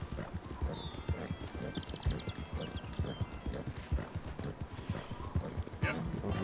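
Horse hooves clip-clop at a steady trotting rhythm while riding in the Red Dead Redemption 2 video game. Someone talks over the hoofbeats, and brief whinny-like tones sound in the background.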